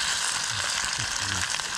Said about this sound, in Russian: Картофель жарится.